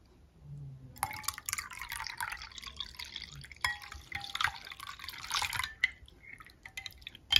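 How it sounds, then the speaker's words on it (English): Cold water trickles and splashes into a container in uneven bursts for several seconds while making Jello, close by and fairly quiet, with a few light clinks. "Add 2 cups of cold water"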